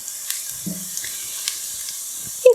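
Onion browning a second time in a hot pan for a shimeji mushroom risotto, giving a quiet steady sizzle with a few soft stirring knocks.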